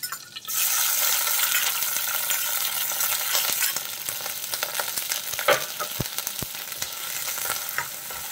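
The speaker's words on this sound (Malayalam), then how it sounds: "എണ്ണ ചൂടായി കഴിഞ്ഞാൽ നമ്മൾ എടുത്തു വെച്ചിട്ടുള്ള ഇഞ്ചിയും വെളുത്തുള്ളിയും പച്ചമുളകും കൂടി ഇട്ട് നമുക്കൊന്ന് വഴറ്റിയെടുക്കാം" Ginger, garlic and green chili sautéing in hot coconut oil for a fish curry, a loud continuous sizzle with scraping stirs throughout, close up and without talk.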